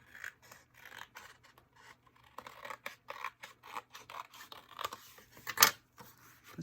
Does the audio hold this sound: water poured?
no